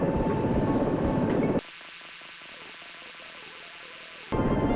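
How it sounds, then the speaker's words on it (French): In the video game Search And Rescue 4, the fastest of three rescue helicopters gives a steady rotor-and-engine drone that cuts to a quieter, tonal passage midway before the drone returns. "il faudra utiliser celui-ci qui est le plus rapide des trois hélicoptères disponibles"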